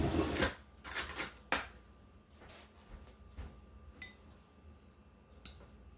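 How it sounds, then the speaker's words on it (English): A spoon is fetched in a home kitchen, with a few sharp cutlery clinks up front, then sparser faint taps and rattles, quiet and close with no talk. "Hold on, let me get a spoon."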